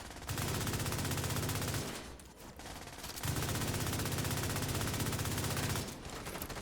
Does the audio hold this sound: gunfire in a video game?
yes